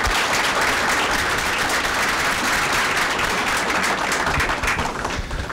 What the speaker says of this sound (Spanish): Queremos despedir a nuestro excelente panel de ponentes con un fuerte aplauso